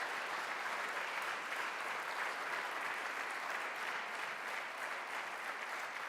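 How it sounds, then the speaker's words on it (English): Steady, dense applause from a large audience at an international awards ceremony, a continuous wash of clapping that holds evenly throughout with no voices rising above it. "predlagam a big round of applause"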